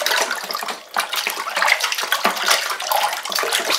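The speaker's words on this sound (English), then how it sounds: "Fill the fermenter up to the 20 litre mark" Water gushes into a plastic fermenter for Coopers non-alcoholic ginger beer, a loud, close, continuous rushing pour that dips briefly near the start before surging on.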